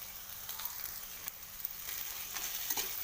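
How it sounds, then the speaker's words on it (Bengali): Fish heads fry in a pan for a chana dal, giving a steady, moderately loud sizzle with occasional stirring. No voices are heard. "এরপর ভেজে রাখা মাছের মাথাটা দিয়ে দিলাম"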